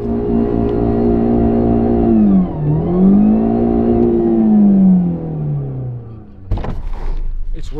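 A car engine revs hard while reversing through deep mud, its droning pitch sweeping down, up and down again as the throttle rises and falls, then giving way to rough, spattering bursts of noise near the end.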